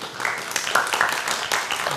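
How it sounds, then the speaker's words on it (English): A studio audience claps and applauds for a guest arriving on a television couch show, a short dense burst of clapping close in the room. "Give him a round of applause in the studio."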